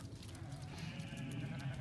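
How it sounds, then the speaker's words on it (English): Sheep on open moorland around an abandoned village bleat nearby over a steady outdoor background, with several overlapping calls and no voices. "we've actually been sort of like inundated with sheep"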